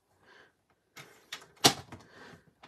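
Orchid Oasis cardstock being trimmed on a paper cutter: a few short sliding scrapes and one sharp snapping cut in the middle, close and quiet, with no talking.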